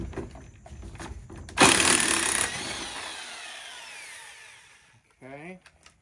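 A power tool buzzes briefly near a VW Beetle's rear suspension, then an impact gun bursts loudly at a 17 mm lower shock bolt and tapers into a whirring spin-down, followed by a short tool whir.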